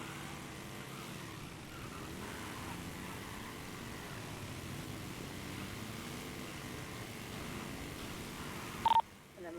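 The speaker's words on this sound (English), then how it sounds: "That's a helicopter flying above us." A cargo helicopter in GTA V passes overhead as a steady low rotor drone beneath continuous vehicle engine noise, with a brief tone near the end.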